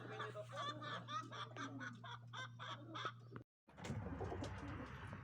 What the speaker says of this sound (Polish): Taszki po locie siedzą, jeszcze tam kilku sztuk brakuje